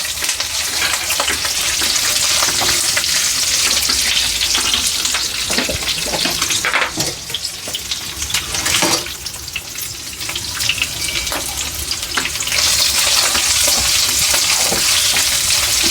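Sliced green chillies frying in hot oil in a pan give off a loud, steady sizzle, with occasional stirring scrapes and crackles breaking through.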